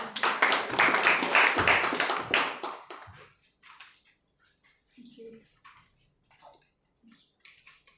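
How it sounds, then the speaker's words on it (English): An audience applauds as a speaker named Divya Someshwar comes on stage at a speakers forum, with a loud burst of clapping for about three seconds that fades into quiet room noise and faint voices. "big round of applause for Divya Someshwar"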